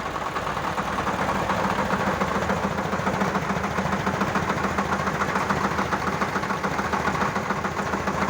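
A Bulat T-25 tractor engine runs steadily nearby, a continuous chugging rumble with a fast even rhythm and no voices.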